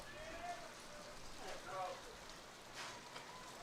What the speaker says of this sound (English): We do have some rain falling right now.